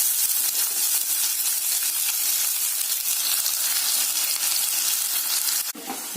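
Chopped onions and mustard seeds sauté in hot oil for a chicken curry, giving a steady, dense sizzle and frying crackle that stays loud and even throughout, with a brief stir-like disturbance near the end. No one speaks.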